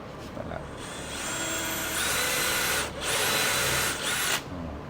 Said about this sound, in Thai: สว่านเจาะนำไป